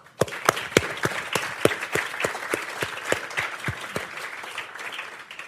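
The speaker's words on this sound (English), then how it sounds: "So we should give them a big applause." Applause from a conference audience, a series of distinct, fairly loud claps in a loose irregular rhythm, with no talking over it.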